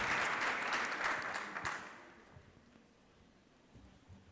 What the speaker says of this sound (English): Warm applause for them, please